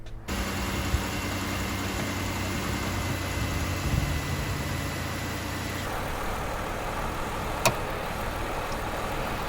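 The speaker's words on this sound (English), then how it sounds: "turn the car on to make sure it's working before you put this all back together" A Chevrolet, Pontiac or Buick car runs at a steady idle after its headlight wiring harness repair, a constant low engine drone throughout, with a brief sharp click near the end and no talking.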